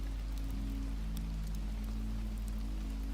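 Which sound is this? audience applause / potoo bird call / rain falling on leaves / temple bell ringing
rain falling on leaves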